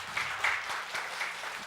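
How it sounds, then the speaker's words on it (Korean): Brief, scattered clapping from a church congregation during a Sunday service, a short burst of a few seconds with uneven, loose rhythm and some voices faintly mixed in. "한번 박수 한번 보내주시죠"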